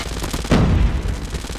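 The Hades light machine gun in COD Mobile fires in a short, loud burst of rapid shots from close by, standing alone against steady game noise.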